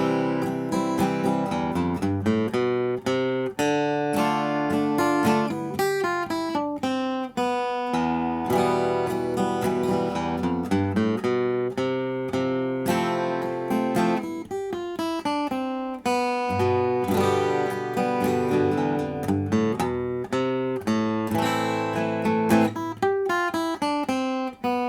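Guitar exercise combining chords, melody and strumming: continuous plucked notes and strummed chords in a flowing rhythmic pattern, played alone and close up with no talking.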